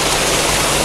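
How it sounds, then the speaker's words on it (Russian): A small, foul-smelling stream runs near the sea below a beach staircase. Its steady rushing wash is close and loud, fills the whole short moment, and has no voices over it. "Вот она, эта речка-вонючка."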